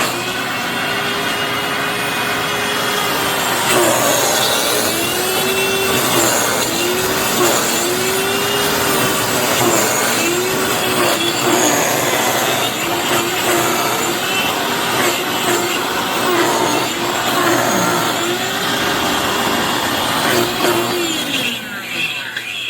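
A Hoover FloorMate Deluxe hard floor cleaner motor runs continuously with a harsh grinding, rattling whine, its pitch wobbling as failed bearings scrape, loud and close with no talking.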